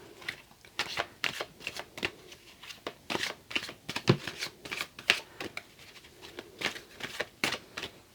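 Angel oracle cards being shuffled by hand in a quiet room, a rapid run of crisp riffling snaps and papery flicks repeating steadily, close to the microphone and with no talking.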